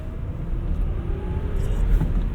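A 2017 Tesla Model S 100D pulls away on light throttle, heard from inside the cabin as a low road rumble with a faint electric motor whine rising steadily beneath it.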